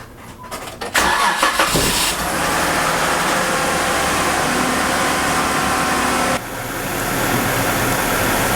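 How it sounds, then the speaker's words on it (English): A Jeep Wrangler engine cranks and catches after a short starter whirr, then settles into a steady, loud idle close by, with a slight shift in tone near the end. "So now what we're gonna do is start the engine and get the vehicle up to running temperature."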